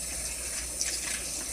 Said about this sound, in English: So I'm gonna put more water in here.